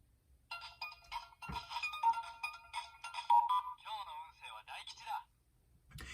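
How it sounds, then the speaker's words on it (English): A DX SpiderPhone toy from Kamen Rider Geats plays an electronic ringtone, a bright beeping melody of tones with a short sung or spoken jingle. It sounds close and clear, then drops away. "you'll get a ringtone."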